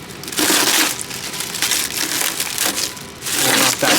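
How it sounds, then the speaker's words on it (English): Plastic wrapping is peeled off a green ARRMA Vendetta 3S speed bash racer RC car, a loud, close crinkling and crackling that comes in rough bursts with brief lulls between pulls. "Pulling off that plastic for the first time."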